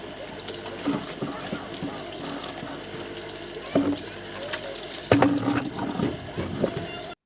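Tap water runs and trickles into a pot while dishes are washed at home, splashing steadily with clattering bursts of utensils, and a faint voice talks in the background.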